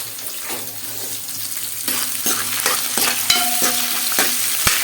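Dried small fish (mettalu) fry in a pan with a steady sizzle, punctuated by a few stirring clicks, while running water from a tap plays underneath.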